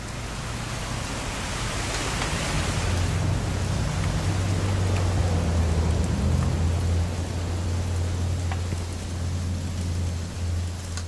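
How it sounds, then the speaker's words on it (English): Steady rain in the video game What Remains of Edith Finch pours down in a dense, hissing wash, with a low rumble underneath throughout; no voices. "It's gonna rain the whole weekend, isn't it?"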